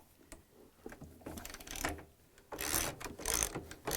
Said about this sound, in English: Using a 13mm socket wrench, we're going to take those 3 bolts on the top out.